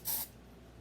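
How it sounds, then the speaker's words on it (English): A single short hiss of hairspray sprays into a jar, quick and soft, then fades to quiet background. "we're just gonna see what happens when I add some hairspray"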